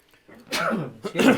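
A single abrupt sneeze-like burst, loud and close, with a second short burst right after, in an indoor conversation setting.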